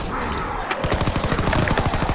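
A gun in Call of Duty WWII Zombies fires a rapid automatic burst of loud, close shots in quick succession after a short pause.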